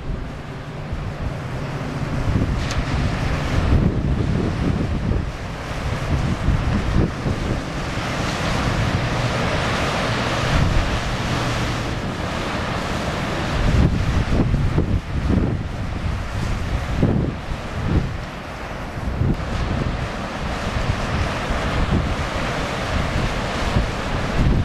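Ocean surf rolling and breaking on an Outer Banks beach with roughly chest-high sets, a continuous loud wash of waves under gusty wind buffeting the microphone, with no voices.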